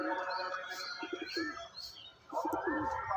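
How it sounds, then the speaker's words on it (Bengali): Pigeons coo in low repeated throaty pulses among softer chirps, fairly close, with a muffled flutter of wings as birds lift off. "এই দেখুন আমার পায়রা উঠছে"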